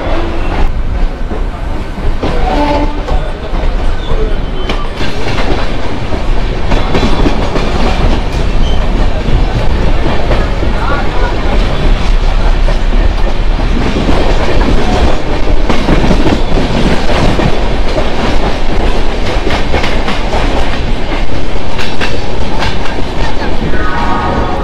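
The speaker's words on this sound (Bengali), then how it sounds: "আর ট্রেন দেখুন কিন্তু ছেড়ে দিয়েছে হাওড়া স্টেশন থেকে" A Howrah to Tarakeswar local train runs at speed after leaving Howrah station, a loud continuous rumble with rhythmic clickety-clack from the wheels and rattling carriages throughout.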